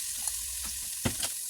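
Chopped onion dropped into hot oil in a pot for butternut squash soup, giving a soft, steady sizzle with a few brief bursts of clatter, close and fairly quiet, with no voices.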